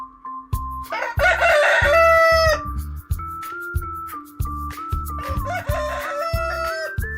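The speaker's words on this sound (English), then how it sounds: "cock" A rooster crows loudly twice, once early and once later, each a drawn-out cock-a-doodle-doo over a plodding background tune.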